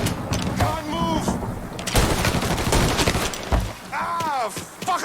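Sustained gunfire in the Mafia III video game, dense overlapping shots and impacts throughout, mixed with shouting voices and chaotic combat noise.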